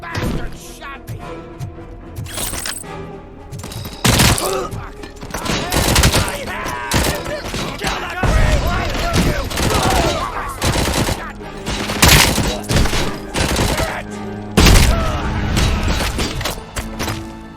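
Heavy gunfire in the game RoboCop: Rogue City, dense bursts of automatic shots and thudding impacts rolling through the whole stretch, loud and close, with brief shouting voices between volleys.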